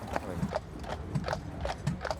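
Draft horse hooves clip-clopping at a steady walking pace, a regular rhythm of hoof strikes heard at moderate distance, fairly quiet with faint background sound.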